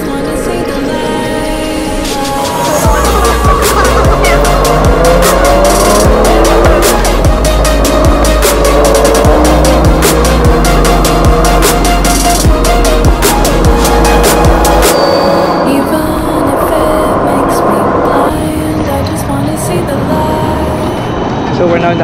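A shuttle bus heading into Amsterdam drives along, with a loud, steady engine drone and road rumble that holds for most of the stretch before easing, plus rattles and clicks inside the cabin.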